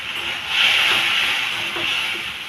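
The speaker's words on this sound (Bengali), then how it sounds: "মশলাতে আছে কাঁচা লঙ্কা আর অল্পটুকু জিরে দিয়ে পেস্ট করে নিয়েছি, আমি এটা দিয়ে দিচ্ছি।" A paste of green chili and a little cumin hits a hot pan while a hilsa, potato and eggplant curry is being cooked. It gives a steady, bright sizzling hiss that swells and eases over a couple of seconds.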